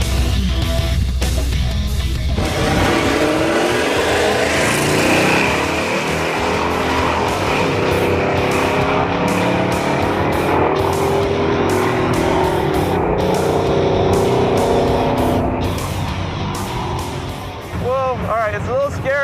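A Jaguar-engined El Camino roars hard on a drag strip, its loud engine note climbing steadily through a long pull before easing off near the end, with a voice heard over it.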